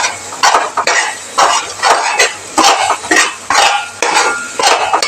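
Sliced onions sautéed in a pan for a coconut-milk chicken curry, loud rhythmic scraping strokes of a utensil against metal, about eight regular sweeps over a faint sizzle.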